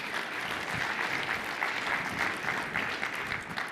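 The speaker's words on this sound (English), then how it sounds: "All right, let's give them one more round of applause." A conference audience gives a panel one more round of applause at a general session, dense even clapping from many hands filling the room at moderate level, with no talk over it.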